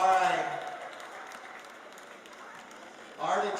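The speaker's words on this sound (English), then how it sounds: "Give the Arden's team and the Village's Insurance team another round of applause" A crowd applauds at a polo club awards ceremony, a soft sustained patter of clapping between stretches of an announcer talking over a PA at the start and end.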